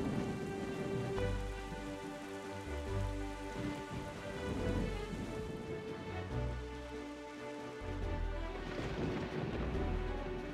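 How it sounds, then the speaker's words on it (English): A rainstorm at sea in The Legend of Zelda: The Wind Waker HD: steady heavy rain patters throughout, with low rolling thunder rumbles and tonal game music underneath. "Wow, that storm went away fast."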